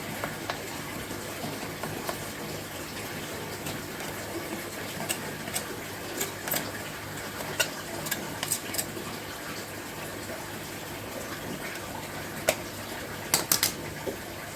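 Water slowly filling an aquaponics grow bed with a bell siphon gives a faint, steady trickling hiss, broken now and then by brief clicks and drips, with no talking.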